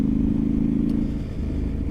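A CFMoto 450MT Ibex motorcycle engine, fitted with a cheap aftermarket exhaust with its baffle inserted, drones in a low, steady rumble close up, easing slightly partway through.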